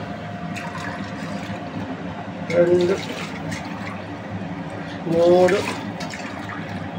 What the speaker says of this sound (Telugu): 8 గ్లాసులు నీళ్లు పోస్తున్నాను.